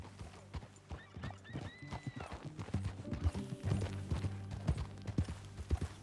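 Horse hooves clip-clop in Red Dead Redemption 2, a steady walking rhythm of close hoofbeats with a neigh partway through and faint background game ambience.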